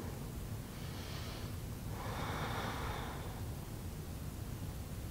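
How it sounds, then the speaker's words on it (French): Slow, audible breaths drawn in and let out during a beginner yoga pose, two soft breath swells over a steady hiss of background noise, close and fairly faint. "Encore 2 respirations ici"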